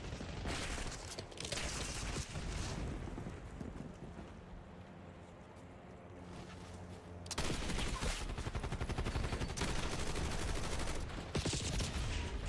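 Light machine gun fire in Black Ops 6 on a close-quarters map, sustained rattling bursts that are loud and dense, easing off midway before resuming in steady rapid strings.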